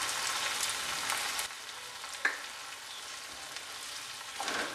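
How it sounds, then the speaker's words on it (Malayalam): A steady, soft sizzle as mild vinegar is poured into a hot pan of sweet and spicy pineapple pickle, with a faint metallic tap partway through and the frying hiss fading slightly afterward. "അധികം പുളിയില്ലാത്ത വിനിഗർ ആണ് അതുകൊണ്ട് ഞാൻ ഒരു കാൽ കപ്പ് ഓളം ഒഴിച്ച് കൊടുക്കുകയാണ്"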